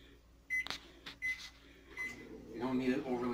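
A microwave oven melting butter gives a few sharp beeps and door clunks, then settles into a low running hum, with a voice talking under part of it.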